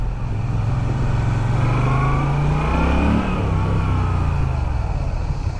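A Moto Guzzi V9 Bobber motorcycle engine pulls hard under acceleration, a loud, close, muffled low rumble whose pitch climbs steadily and then drops as the gear shifts, with no voices.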